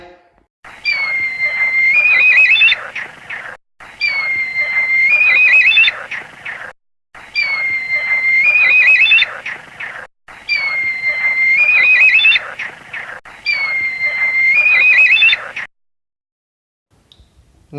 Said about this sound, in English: kite